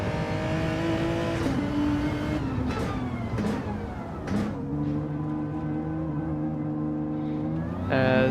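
Race cars rolling out onto the track at Laguna Seca in a racing game: sustained engine drones rise and fall as several cars pass, with sharp revving bursts and a loud surge near the end.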